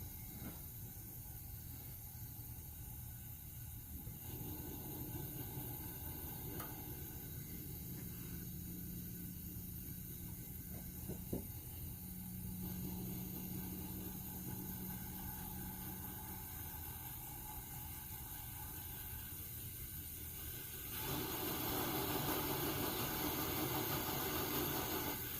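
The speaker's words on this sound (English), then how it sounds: "As you can see, I'm getting a real blue flame down in there." A Coleman 500 camp stove burner hisses steadily with a low roar. The blue flame runs on and grows louder and brighter near the end as the valve is opened up.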